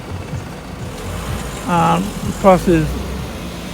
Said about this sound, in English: and like the noise of the traffic.